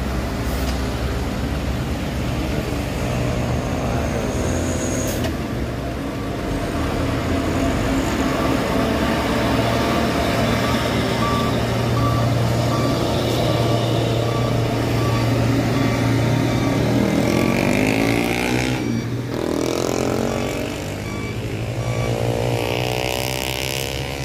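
A tanker truck laboring up a steep hill road, its engine droning steadily and loudly under strain for the whole stretch, with traffic noise around it and a brief shift in engine pitch toward the end.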